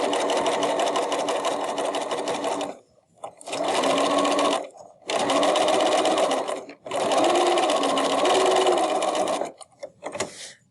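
A sewing machine stitches the hem of a reusable tote bag in four loud, close bursts of rapid whirring, separated by short pauses, then a few brief final runs.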